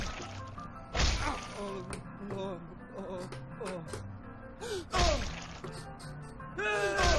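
A book strikes a teacher in the Whack Your Teacher video game, with several heavy thwacks spaced a few seconds apart, each followed by pained groans and cries, while people talk in the background.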